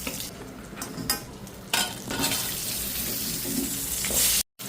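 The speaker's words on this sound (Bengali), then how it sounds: "আলু পটলটা ভেজে নেবো একসাথে" Potato and pointed gourd frying together in oil with salt and turmeric in a kadai, a loud continuous sizzle with stirring scrapes, cut off briefly near the end.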